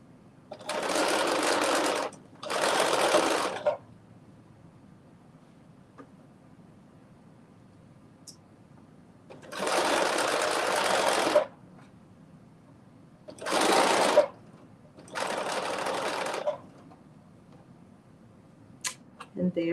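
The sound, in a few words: sewing machine stitching a back stitch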